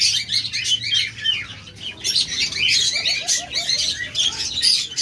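A crowded room of caged birds for sale, including spotted doves, budgerigars, lovebirds and cockatiels, chirps and twitters continuously. Dense high chatter fills the space, a few lower dove-like calls sit beneath it, and wings flutter now and then.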